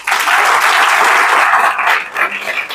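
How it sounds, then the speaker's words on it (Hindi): An audience at a business coaching seminar bursts into loud, dense applause that holds steady, then thins slightly before swelling again at the end. "एक बार तालियां बजा दो"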